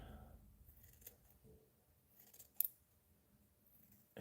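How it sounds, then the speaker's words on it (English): A sharp snip from larger scissors cutting fly-tying material for an articulated streamer, a single distinct cut standing out against quiet room noise. "Get the bigger scissors."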